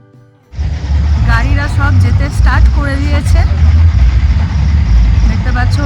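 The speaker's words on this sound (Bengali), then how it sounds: "বাইক গাড়ি প্রচুর যাচ্ছে" Steady road traffic of bikes and cars rumbles close by near Nandi Hill, engines passing continuously, with a voice talking briefly over the noise.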